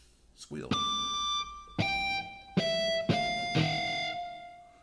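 Distorted electric guitar sounds four picked notes, each ringing out as a sustained high, squealing harmonic, close and loud.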